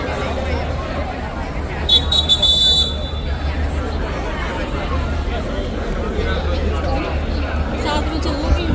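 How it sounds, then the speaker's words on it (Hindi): Steady murmur of crowd chatter fills a busy pedestrian street in Shanghai, a dense hubbub of many voices with a brief high buzzing tone near the start, continuous and moderately loud throughout. "पूरी भीड़ हो रही है भाई।"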